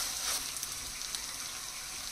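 Potatoes frying in a pan for street-style pav bhaji give a steady, soft sizzle with faint crackles, heard close and alone with no talking.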